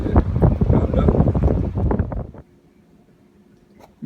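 Heavy gusty wind buffets the microphone in loud rumbling bursts for a couple of seconds, then drops to a quiet low background.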